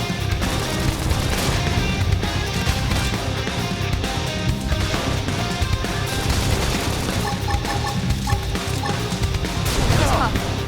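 Combat in the video game Xenoblade Chronicles X: dense, continuous gunfire and heavy impact hits pile up over a busy game soundtrack, with crashes and smashes landing throughout and voices shouting attack calls underneath.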